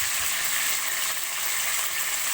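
Potatoes frying in hot oil, a steady bright hiss and sizzle holding at even loudness throughout, close and uninterrupted.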